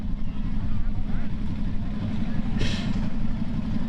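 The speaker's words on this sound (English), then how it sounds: "I hear him got the engine started" A garden pulling tractor's engine runs at a spring show tractor pull, giving a loud, steady, gritty drone throughout while an announcer talks over it.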